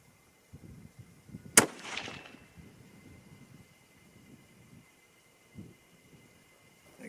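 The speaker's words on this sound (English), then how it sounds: "So let's go ahead and shoot the same target" A single loud rifle shot from a Christensen Arms MPR firing 120-grain ELD-M loads, a sharp crack with a brief rumbling tail, set against steady outdoor background noise.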